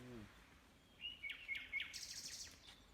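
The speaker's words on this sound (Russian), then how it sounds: "Здесь просто птичка нормально так орет" A bird in a forest gives a rapid series of sharp, high chirps and whistled notes, fairly close and loud against a quiet background, after a brief bit of voice at the start.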